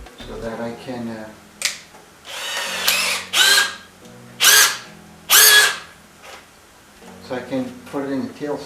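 Several short bursts of a power drill whirring into the end of a log to bore a center hole, each a second or less, separated by pauses, with a person talking before and after.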